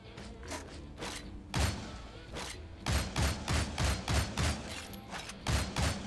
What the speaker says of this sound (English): I'll try shooting this time.